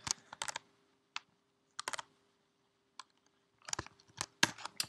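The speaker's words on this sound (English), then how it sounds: "So again, I'm going to type" Someone types on a computer keyboard in short, close bursts of crisp key clicks separated by brief pauses, in a quiet room.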